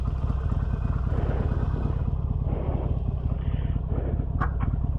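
A 2020 Harley-Davidson Iron 883 motorcycle engine runs steadily during a ride, a continuous low throbbing rumble with wind and road noise layered over it and no pauses.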